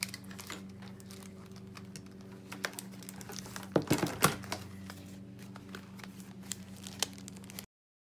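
Sticker packs being rummaged through, with light crinkling and tapping of paper and plastic close by, some sharper rustles in the middle, over a low steady hum.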